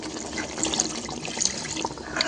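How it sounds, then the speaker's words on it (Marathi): Water splashes and trickles into a metal pot, a short, close pouring sound with small clinks, no voices. "आपण थोडंसं भांडं धुवून पाणी घालून घ्यायचं आहे"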